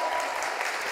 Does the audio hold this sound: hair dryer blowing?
no